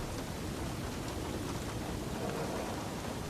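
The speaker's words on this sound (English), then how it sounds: "Rain hammers against the glass. Wind howls without pause." Storm rain hammers steadily against the glass of a lonely lighthouse as wind blows, a dense continuous roaring wash that stays loud and unbroken throughout.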